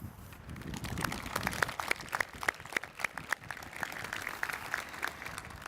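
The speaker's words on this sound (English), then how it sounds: "I invite you to join me in a round of applause to him." An audience at a May 2013 graduation ceremony joins in a round of applause, scattered claps heard faint and somewhat distant in a large space, irregular and thin rather than a dense roar.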